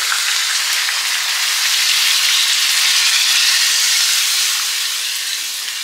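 Second-press coconut milk poured into chicken curry cooking in a pan, giving a steady, loud sizzling hiss that eases off slightly toward the end, with no voices.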